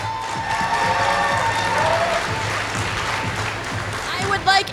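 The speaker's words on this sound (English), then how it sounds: "One more round of applause." An audience at a comic convention cosplay contest claps for the cosplayers, a dense sustained wash of applause while a voice talks over it.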